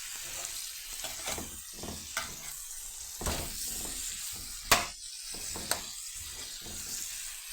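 Fresh green chickpeas fry in butter and oil with salt, a continuous crackling sizzle broken by several sharp stirring scrapes and knocks against the pan.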